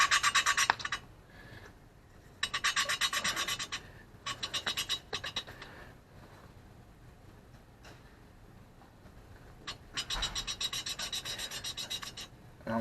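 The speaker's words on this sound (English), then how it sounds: "This is a lapping tool. It just kind of sticks to your valve air, and you just kind of work it back and forth." A valve lapping tool works a small-engine valve back and forth on its seat with lapping compound, making a faint gritty rasping in repeated short bursts separated by pauses.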